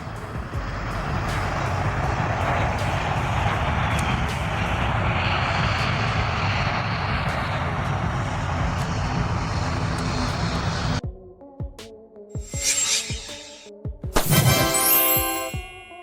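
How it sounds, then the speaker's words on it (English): Police surveillance airplane with its engine droning loudly and steadily overhead for about eleven seconds, then cutting away to quieter, sparse sounds and a brief burst near the end. "This is a police airplane, a police aircraft for large area surveillance, border patrol, and tracking fugitives."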